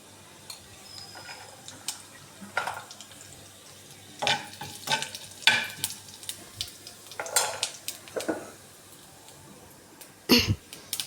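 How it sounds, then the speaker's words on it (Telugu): Cumin seeds fry in a teaspoon of ghee while making carrot halwa: a soft background sizzle, broken by intermittent scrapes and clinks of a spoon stirring against the pan. "ఒక టీ స్పూను గీ వేసుకొని జీలకర్రని బాగా వేయించాలండి"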